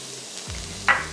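Black beans and corn fry in a pan, a soft close sizzle with a brief scrape or stir and a short clatter near the end.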